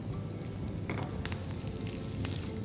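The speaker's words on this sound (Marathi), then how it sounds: "तर ही मोहरी एकदा तडतडायला लागली की मग आपण ह्याच्यामध्ये घालायचं आहे हिंग" Mustard seeds, asafoetida and green chili sizzle and crackle in hot oil for a Gujarati khandvi tempering, a dense continuous frying hiss with scattered sharp pops, close and fairly loud.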